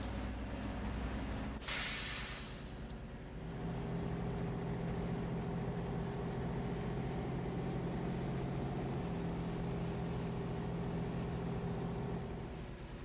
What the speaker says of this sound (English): I guess we'll just take this truck back